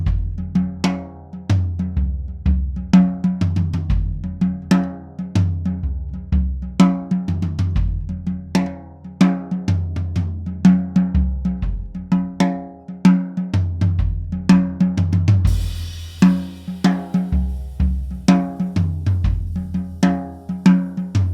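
Vintage Gretsch bass drums, one 20-inch and one 24-inch, play together in a steady groove: deep, booming kicks repeat in a close, loud rhythm with other kit hits layered on top. No one speaks.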